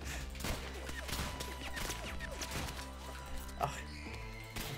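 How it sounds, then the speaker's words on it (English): Bouncing bullets fire in a modded round of the video game Rounds, a rapid scatter of sharp game shots over a busy music bed, continuous and close. "Bullets are shooting every which way."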